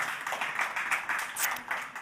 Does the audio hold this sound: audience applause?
yes